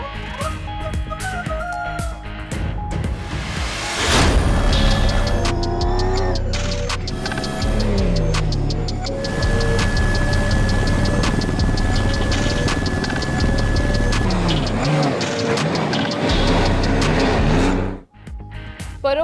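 Dakar Rally race cars tear through desert dunes, with loud engines revving and roaring past in waves, tires skidding, and a rough, continuous blur of motor noise that cuts off near the end.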